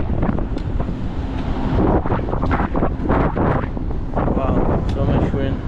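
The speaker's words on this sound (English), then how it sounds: "So much wind." Strong wind buffets the microphone during a fast ride on a Teverun Fighter Supreme Ultra 72V electric scooter, a loud continuous roar with a voice partly heard under it.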